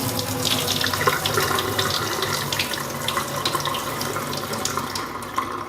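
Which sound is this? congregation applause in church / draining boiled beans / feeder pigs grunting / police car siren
draining boiled beans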